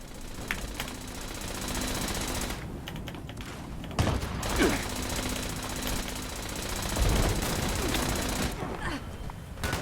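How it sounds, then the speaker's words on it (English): Sustained rapid mechanical firing of a Gatling laser in the post-apocalyptic game Fallout 76, a steady dense rattle running nearly the whole time, with a few brief pauses and faint talking underneath. "Gatling laser way better"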